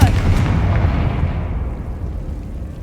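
Bombarda spell blast in Hogwarts Legacy, a single loud booming explosion up close whose rumble fades away over a few seconds.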